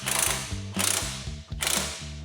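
A hand ratchet clicks rapidly in three quick bursts while snugging down the nuts on caster camber plates of a Mustang GT's front suspension, close and clear with no talk.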